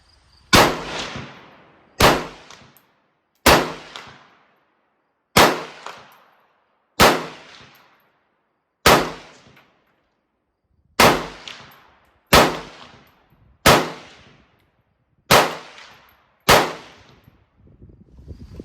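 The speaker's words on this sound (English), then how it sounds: "Let's take some shots at 50 yards." Eleven loud single gunshots ring out from a 1973-era Norinco SKS rifle at an outdoor range, fired at a target 50 yards away, each sharp crack followed by a brief decaying echo, spaced evenly about one and a half seconds apart with no talking.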